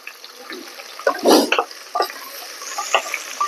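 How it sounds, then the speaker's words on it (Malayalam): Beef kuruma ingredients, including small onions, green chillies, sliced onion and curry leaves, stirred in a pan, with a few soft scraping and splashy clatters scattered over a quiet background. "അപ്പോൾ ഇതെല്ലാം കൂടി ഇട്ടിട്ട് നമ്മൾ എന്ത് ചെയ്യുക, നന്നായിട്ട് ഇളക്കി കൊടുക്കും."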